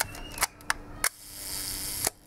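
A serviced 1954 Leica M3 double-stroke rangefinder camera firing its shutter repeatedly: several crisp, close mechanical clicks, some paired as open and close, with a brief hissing stretch between shots.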